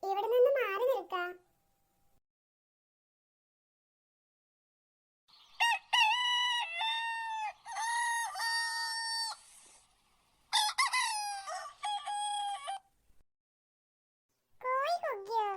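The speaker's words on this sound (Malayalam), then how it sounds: "കോഴി കുക്കിയോ?" A cartoon rooster crows in several drawn-out, tonal bursts with short pauses between them, alongside a voice talking at the start and end.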